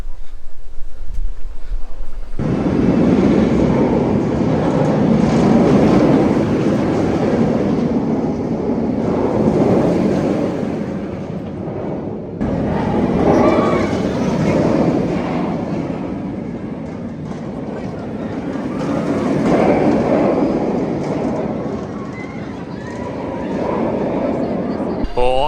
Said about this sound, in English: Oh, it's such a good ride on Nemesis just then.